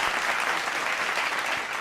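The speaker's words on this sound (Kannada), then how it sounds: "ನಿಮ್ಗೂ ನಿಮ್ಮೆಲ್ರಿಗೂ ಒಂದು ಚಪ್ಪಾಳೆ." An audience on a televised music show claps in steady, dense applause, moderately loud and unbroken throughout, with no talking over it.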